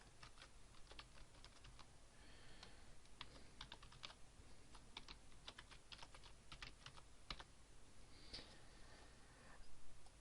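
Typing on a computer keyboard while entering an email address, a quiet, steady run of close key clicks in irregular bursts with short pauses between.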